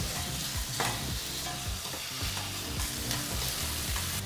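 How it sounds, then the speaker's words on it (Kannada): Onion, garlic and tomato fry over a medium flame for a bhindi gravy, producing a continuous loud sizzle with rhythmic scraping stirs throughout. "ಈ ಮೂರು ಪದಾರ್ಥನೂ ಐದರಿಂದ ಆರು ನಿಮಿಷ ಚೆನ್ನಾಗಿ ಫ್ರೈ ಮಾಡ್ಕೋಬೇಕು ಮೀಡಿಯಂ ಫ್ಲೇಮ್ನಲ್ಲಿ ಫ್ರೈ ಮಾಡ್ಕೋಬೇಕಾಗತ್ತೆ"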